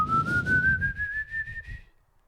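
A person imitates the legendary Silbón's whistle with a single rising whistle tone that climbs steadily in pitch for about two seconds, heard close and alone over a faint low background rumble.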